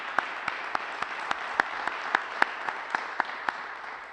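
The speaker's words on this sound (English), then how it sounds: "Please give Leader Kaler a round of applause for his leadership." Modest audience applause for Leader Dave Kaler at a Park District gathering, a thin, steady patter of individual claps running evenly throughout, moderately near, with no talk over it.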